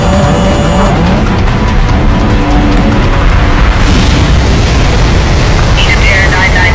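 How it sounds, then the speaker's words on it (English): Left engine torn from EgyptAir Flight 990 during its crash dive, rendered as a loud, dense, continuous roaring rumble with a sharp jolt early on. "Stressed beyond endurance, the left engine is ripped from the plane."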